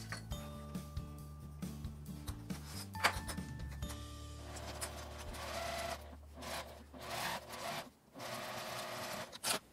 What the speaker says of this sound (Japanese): 上端を1センチの縫い代で縫います